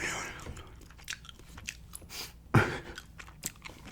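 Trident gum chewed close to the mic with soft wet smacks and clicky crunches in an irregular rhythm, one sharper bite standing out midway.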